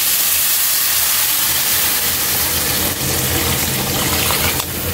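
Water poured into a hot pan of miso over a low flame hisses and steams loudly and continuously, a dense broadband sizzle with a brief dip near the end and no talk.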